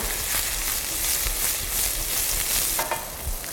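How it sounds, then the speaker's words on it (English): Broad beans sauté in hot extra virgin olive oil, giving a steady, loud, close sizzle and crackle with occasional stirring clinks and no voices. "When the oil is hot, we saute"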